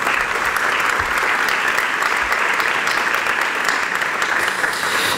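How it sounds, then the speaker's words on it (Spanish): A room of guests at the launch of a Costa del Sol espeto sardine-skewer contest in Torremolinos breaks into applause, a loud, even, continuous clatter of many hands that does not let up. "Un aplauso para todos ellos"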